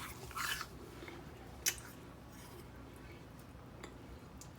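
A crisp apple, its wax cleaned off, crunches under a close bite: a short rough burst early on, then a sharp crack and a few faint chewing clicks over a quiet room.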